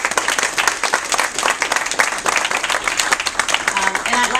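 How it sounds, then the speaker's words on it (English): A crowd applauds former New York Governor David Paterson at an uptown gathering, with dense, loud clapping that runs steadily throughout, and faint voices and cheers mixed in underneath. "Can we give him one more round of applause?"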